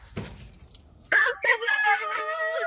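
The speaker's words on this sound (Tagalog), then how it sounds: "Ito, maraming manok sa Ilonggo." A rooster crows loudly and close by in Iloilo, Philippines, its long wavering call following a brief burst of clucking and shuffling.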